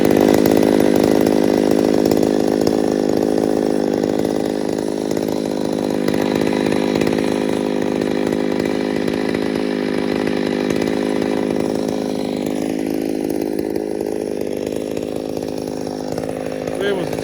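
Ported Poulan PM610 chainsaw with a 24-inch bar, .058 3/8 chain and a muffler fitted with a homemade deflector, running loud and close in a continuous high-revving snarl that dips and recovers slightly, with no pauses.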